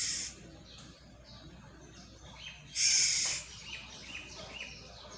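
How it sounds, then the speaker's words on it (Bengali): A yellow bird gives agitated calls outdoors, with an opening burst of shrill chirps, a louder harsh call in the middle and softer repeated chirps after, over quiet background. "কি সুন্দর হলুদ পাখি। আমাকে দেখে সব রাগান্বিত,"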